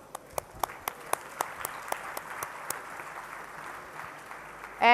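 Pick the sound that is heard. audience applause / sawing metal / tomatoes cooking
audience applause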